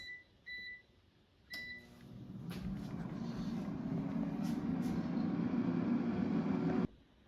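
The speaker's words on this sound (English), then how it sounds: "Now the air fryer is done cooking" An air fryer cooking Trader Joe's falafel at 380 degrees Fahrenheit: a few control-panel beeps and a click, then the fan and heater start up into a steady, rising whirring hum that runs for several seconds before cutting off abruptly.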